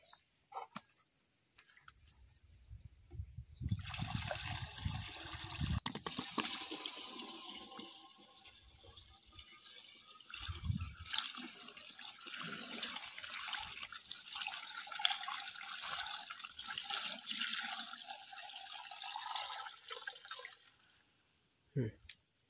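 Water splashes and gurgles steadily into a container holding two spoonfuls of pesticide powder for a chrysanthemum crop. The pour is moderately close and runs for most of the span, with people talking over it.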